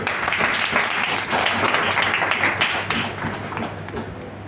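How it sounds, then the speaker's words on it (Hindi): A school audience at a Kala Utsav traditional storytelling event applauds all the performers, a dense, steady wash of clapping that holds strong and near for the whole stretch with a low hum beneath it. "एक बार तालियां हो जाए सबके लिए"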